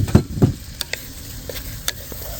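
Chicken stirred together with tomatoes in a pan at a riverside camp, a few scattered knocks and scrapes of the spoon over a low sizzle, close and fairly quiet, with no one speaking.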